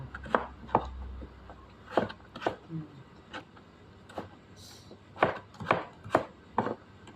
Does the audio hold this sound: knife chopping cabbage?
yes